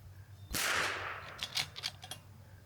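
A single loud crack of a precision rimfire rifle at a shooting range, followed by a few fainter sharp clicks and knocks of the rifle being handled.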